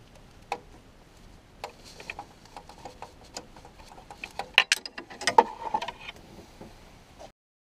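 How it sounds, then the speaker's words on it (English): A 6mm hex Allen key turns the cambelt tensioner anti-clockwise on a VW Sharan/Seat Alhambra engine, giving faint, irregular metallic clicks and taps that grow sharper and denser toward the end before stopping. "You can stick your 6mm hex Allen key and turn it anti-clockwise so the belt becomes loose."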